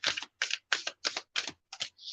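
Tarot cards being shuffled close by: seven quick, crisp papery bursts in a fairly even rhythm, quiet and with no talk.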